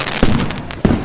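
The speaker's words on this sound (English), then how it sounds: "we will fire the firecrackers to celebrate the new coming year." Firecrackers go off during Chinese New Year celebrations, two sharp, loud bursts about half a second apart with crackling in between, close by.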